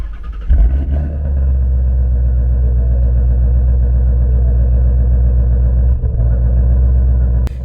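A Shelby GT350's engine cranks and fires up, catching with a loud burst and then settling into a deep, steady, throbbing idle, close to the car, with no voices.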